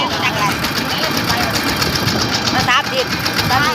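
A tractor engine runs close by with a loud, continuous rumbling chug, while voices talk over the noise throughout.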